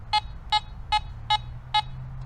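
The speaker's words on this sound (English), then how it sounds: "Here's a mid tone, a nickel." Five evenly spaced mid-tone beeps from a Teknetics Delta 4000 metal detector detecting a nickel, clear and close, repeating in a steady rhythm over a low background hum.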